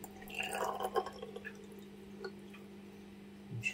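Aquarium water from a nano reef tank being poured into a small test tube for a nitrate test, a brief trickle and a few soft drips up close, then faint clinks, with no talk.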